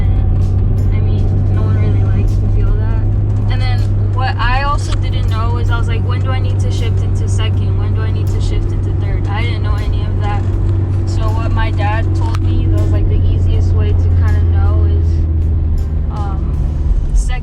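Manual-transmission car in third gear, its engine a steady low hum close by throughout, with a person talking over it the whole time.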